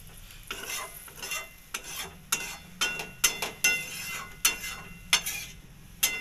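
Water pours into a hot pan of Bengali soybean and potato curry (soyabin alur rosha), setting off a run of sharp, crackling sizzle bursts and stirring scrapes, close and moderately loud, with no voices.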